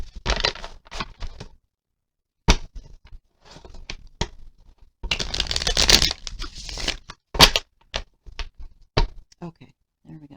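Tarot cards being shuffled make bursts of riffling, crackling and slapping, with short pauses between them. The sounds are close and moderately loud.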